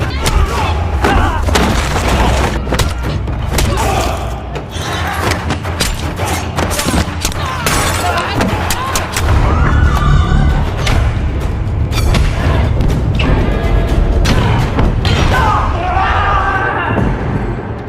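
A movie fight scene with guns and knives, heavy booms and bursts of gunfire over a dense loud soundtrack, continuous and crowded with impacts, and speech mixed in.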